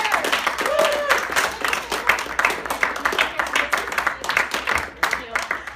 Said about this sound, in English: Everybody give a huge round of applause for Curtis Gallagher